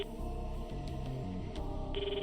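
A telephone rings steadily and at moderate volume, its electronic tone repeating throughout with no voices over it.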